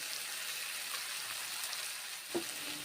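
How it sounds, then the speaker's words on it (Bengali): Roasted spices go into a pan of sizzling oil, heard as a steady, moderate frying hiss with a faint stir or tap near the end. "ভাজা মশলা এখন দিয়ে দিচ্ছি"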